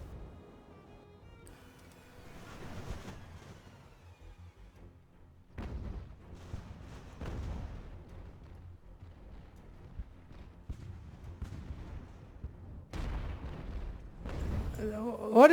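Broadside cannon fire from sailing warships in a naval battle in Ultimate Admiral: Age of Sail, heard as scattered deep booms and rumbling volleys at varying distance, with a sharper cluster of blasts near the end.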